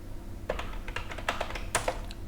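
Typing a line of Python code on a computer keyboard: a quiet, uneven run of close key clicks and taps over a low background hum, with no speech.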